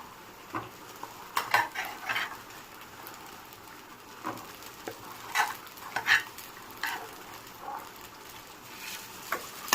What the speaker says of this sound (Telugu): ఒకసారి మిక్స్ చేసుకుందాము